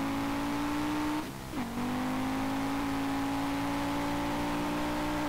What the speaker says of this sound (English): Why is it revving so slow?